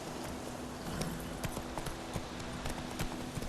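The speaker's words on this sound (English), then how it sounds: "Luckily, Geralt can always count on his horse, Roach, to help him in his travels." Hoofbeats of the horse Roach galloping up in the video game The Witcher 3, a rapid continuous clip-clop of hooves that stays fairly close and steady, heard alone without speech.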